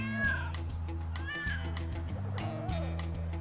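A cat meows several times on a home camera feed, thin rising and falling cries over a background of steady music-like tones.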